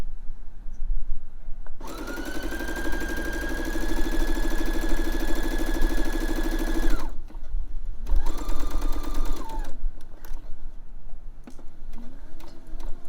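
A sewing machine stitches a tote bag seam with a loud, steady, rapid mechanical clatter and whine for several seconds, then a shorter second run, separated by quiet pauses.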